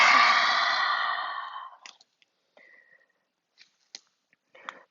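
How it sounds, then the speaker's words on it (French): A long, breathy exhale through the mouth during a Vinyasa yoga flow, loud and close, fading out over about two seconds, followed by faint scattered clicks and small movement noises. "Et expire par la bouche."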